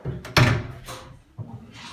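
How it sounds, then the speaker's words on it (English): A door in a museum exhibit room swings shut with a firm thud, followed by a softer knock and faint rustle, close and loud without talk. "Obviously it's a little bit light with the door open, so I'll close that."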